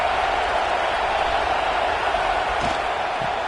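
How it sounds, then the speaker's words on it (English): Steady crowd roar fills a football stadium during a game, a broad continuous wash of cheering and applause held at an even, loud level throughout without any distinct voices standing out. "This crowd ready to make its presence known."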